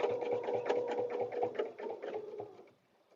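A sewing machine stitches paper-pieced fabric for a butterfly dresser scarf, running in a steady rapid rhythm of close, even stitch pulses that stop abruptly near the end.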